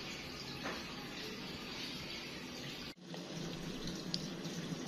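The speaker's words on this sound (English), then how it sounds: "it's draining the first water" An LG 16 kg top-load washing machine drains its first wash water with a soft, steady rush of flowing water that runs continuously, with a brief dip partway through.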